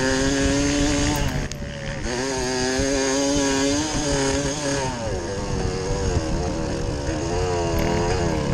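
A dirt bike engine runs hard at high revs during a hare scramble race, a loud, close, continuous buzzing drone that rises and falls slightly in pitch as the rider holds the throttle wide open. No one talks.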